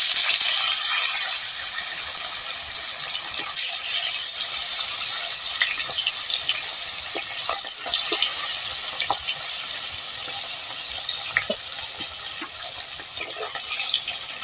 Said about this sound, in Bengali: তেলটা ধোঁয়া উঠা গরম হয়ে গেছে এবার আমি মাছগুলো ভেজে নিচ্ছি